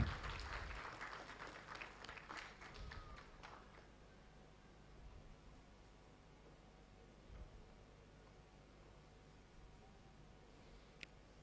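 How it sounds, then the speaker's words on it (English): A conference audience at an occupational safety event in West Africa breaks into applause, loud dense clapping for the first few seconds that then thins and fades into room noise. "Please, can we clap for him as he comes?"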